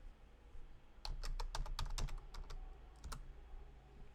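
A quick run of crisp computer keyboard keystrokes, about a dozen close clicks in a brisk burst, then a couple of final taps after a pause, with no speech.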